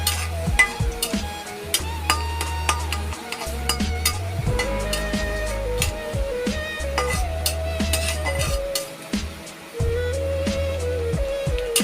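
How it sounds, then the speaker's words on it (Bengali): Garlic stirred and fried in a pan, with steady sizzling and repeated scraping strokes of a spatula against the pan in an uneven rhythm, close and clear with no talking. "রসুনটা দিয়ে একটু নাড়াচাড়া করব। যখন রসুনটার ফ্লেভার বের হবে"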